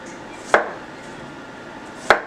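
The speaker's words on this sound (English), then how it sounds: "You want to cut them a little thick." Two sharp knife chops through thick-cut cucumber for a cucumber and tomato salad, about one and a half seconds apart, close and crisp against a quiet kitchen.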